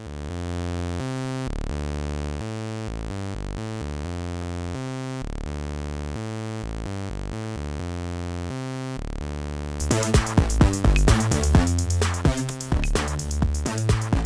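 A deep, buzzy sawtooth synthesizer bass tone drones steadily in a stuttering rhythmic pattern, then brighter percussive hits join in near the end.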